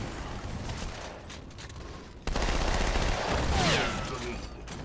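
SMG fire in Halo MCC multiplayer slayer matches, a dense, loud rattle of rapid shots that starts abruptly midway and continues steadily over a busy game backdrop, with no voices.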